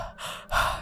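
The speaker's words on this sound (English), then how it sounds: "Heavy breathing." Heavy breathing plays close and alone: a drawn breath, a short pause, then a louder, breathy exhale.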